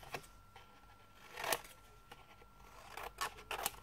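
Scissors cutting the corners of paper for a stack book craft, a few quiet close snips spread across a few seconds with light paper rustle between them.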